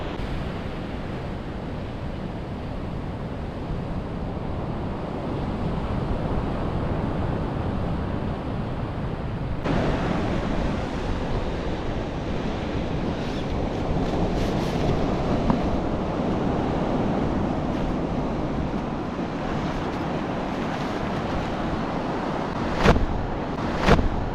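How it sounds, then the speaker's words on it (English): Strong, steady wind roars across the microphone on a beach with surf rumbling underneath, a continuous broadband blustery noise with occasional gusty bursts near the end. "She's pretty windy actually."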